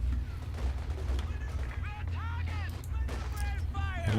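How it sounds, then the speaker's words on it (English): Machine gun fire crackles under battle noise in the Company of Heroes 2 strategy game, with rapid bursts and whistling streaks over a low rumbling bed at moderate loudness. "Machine gun has moved down here now. So double machine guns."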